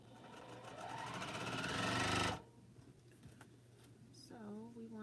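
A sewing machine stitches a quilt square in a single close run lasting about two seconds, building in loudness before it stops. Speech follows afterward.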